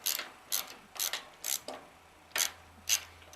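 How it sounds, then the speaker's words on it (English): Ratchet wrench loosening a bolt at the rear of the fuel tank on a 2009 Honda Shadow Aero 750 motorcycle, quick close bursts of clicking in short irregular strokes with brief pauses between them. "at which point it's time to loosen up this bolt back here"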